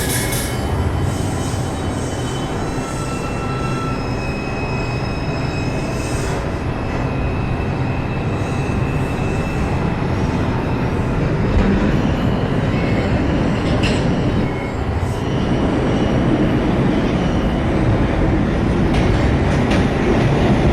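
A New York City subway 1 train bound for South Ferry rumbles steadily from inside the car, with wheel squeal and clickety-clack along the rails, loud and continuous.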